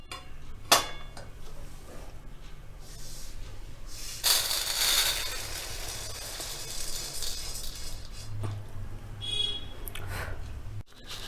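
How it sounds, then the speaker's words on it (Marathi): Roasted urad dal scooped out of a pan on low to medium flame, scraping and clinking of a spoon against metal with a louder rattling burst midway; no talking. "डाळ मी दहा मिनटे भाजली आहे अगदी व्यवस्थित भाजून घेतली आहे आता ती काढून घेऊया"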